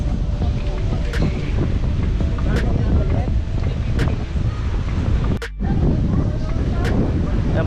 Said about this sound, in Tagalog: Grabe maalon talaga ay.